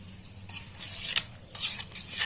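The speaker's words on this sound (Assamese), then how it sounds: "আম লাৰি আছে আৰু আম তেলত দি লাৰি আছে" Mango pieces stirred in hot mustard oil with spices for an Assamese mango pickle, with a soft ongoing sizzle and a few sharp scrapes and clinks of a spoon against the pan.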